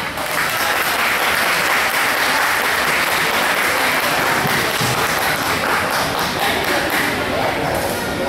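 An audience at a Mother's Day fiesta in Port Arthur, Texas, applauds Ballet Folklórico Herencia Mexicana dancers before a Durango dance. The applause is loud and sustained, a dense wash of clapping with a murmur of voices underneath.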